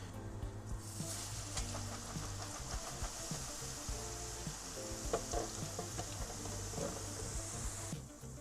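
A lotus waffle mould coated in sesame-coconut batter fries in hot oil, a steady, rushing sizzle that holds evenly for several seconds before cutting off.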